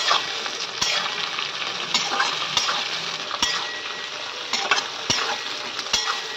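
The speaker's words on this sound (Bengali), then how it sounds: "একটু ভাজা ভাজা হোক।" Okra fries in refined oil in a pan with a loud, continuous sizzle, and a utensil clinks against the pan at roughly one-second intervals as it is stirred. No voices.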